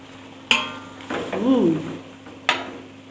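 Squid, two whole ones of about 500 grams, tipped into a hot pan and stir-fried with gendot chillies: a sharp clatter as they land, a surge of sizzling, and another bright clank of the utensil against the pan.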